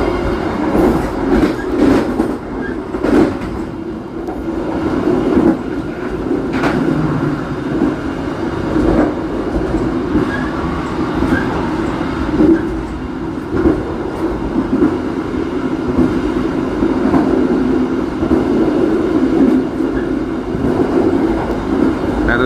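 The Mutiara Timur night passenger train from Banyuwangi to Surabaya runs through Kalakah station without stopping, heard from on board as a loud continuous roar of rolling wheels with rhythmic rail clatter and occasional squeal.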